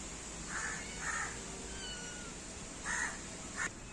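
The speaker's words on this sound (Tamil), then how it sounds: "நம்ம அலினா பையன் தான் எங்கேயோ போய் நின்றுட்டு கத்திட்டு இருக்கான்" A cat meows several times in short, faint calls spaced across a quiet background, heard from some distance with no talking.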